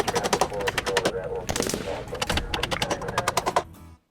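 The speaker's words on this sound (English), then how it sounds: "And then it's blasted with more nails." A nail gun firing rapid strings of loud, close, sharp shots into 2x8 deck framing and joist hangers, with a short pause between volleys and no talk.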